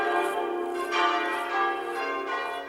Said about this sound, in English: On arrival at All Saints Church, the bells are raised quickly in no particular order.